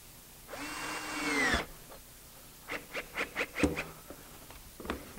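A power drill drives long screws into wood at a woodworking bench. One steady whining burst runs for about a second, followed by a series of quick knocks and taps, all fairly close.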